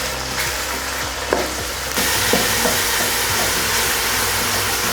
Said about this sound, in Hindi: चमचा मुसलसल हम हिलाते जाएंगे और कीमे को भूनते जाएंगे